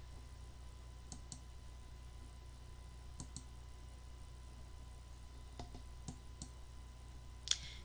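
Computer mouse clicks during on-screen software work: a handful of faint, sharp single and double clicks spaced irregularly over a quiet background hum, close up, with one slightly louder click near the end.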